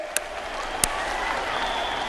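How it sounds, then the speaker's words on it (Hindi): A crowd claps in honour of the cheetahs at a public ceremony, a thick continuous wash of applause with a couple of distinct nearby claps, loud and unbroken. "इन चीतों के सम्मान में ताली बजाइए।"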